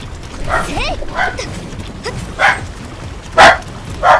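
A dog barks in the video game Code Vein: a few sharp, loud barks spaced about a second apart, following a stretch where a voice and softer yelps overlap.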